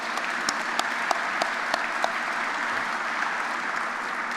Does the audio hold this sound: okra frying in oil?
no